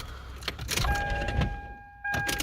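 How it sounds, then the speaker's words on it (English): Power windows rolling up in a parked car: a steady electric motor whine runs for about a second, stops, then briefly resumes, with a faint jangle of keys and some rustling nearby. "I'm gonna roll up the windows now."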